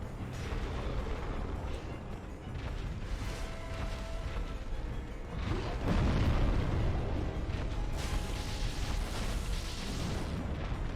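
Booming explosions from a boss fight in the video game Dark Souls Remastered, a dense rumbling roar with heavier bursts swelling midway and near the end, continuous and fairly loud with no talk.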